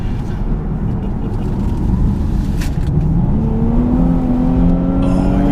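A 2017 INFINITI Q60 Red Sport 400 engine revs up and climbs in pitch as it accelerates hard, loud and close, a steady rising whine building over several seconds.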